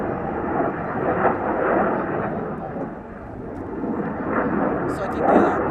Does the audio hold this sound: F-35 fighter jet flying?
yes